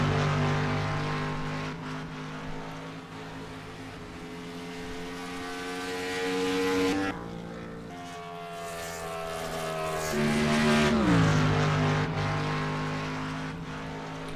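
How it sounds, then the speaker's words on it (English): A race car accelerates hard around the Dover oval during a late-race lap, its engine note rising and falling in pitch as it passes, loud and sustained with shifting whine, with no talk over it. "Again, you can hear him really pedaling that gas."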